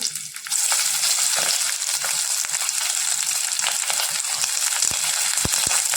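Chopped spring onions, capsicum and cabbage frying in hot oil for a soya chilli gravy, giving a steady, continuous sizzle with occasional sharp crackles and pops.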